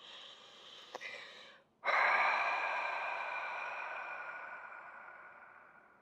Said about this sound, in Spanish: pueden exhalar por la boca y que se escuche la respiración